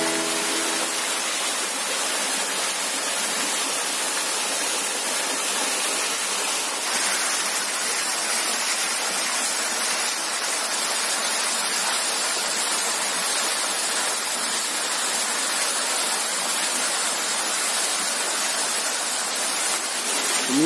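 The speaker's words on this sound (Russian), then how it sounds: "У меня впереди еще один водопад" A waterfall on the Dniester river roars in a steady, dense broadband rush, close and loud with no pauses, its water noise alone without any voices throughout.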